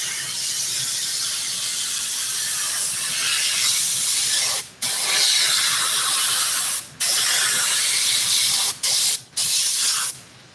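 A spray can hisses loudly in several long continuous bursts, separated by brief pauses, with no talking, while spraying cracks in a 1990s Chevy W/T truck seat.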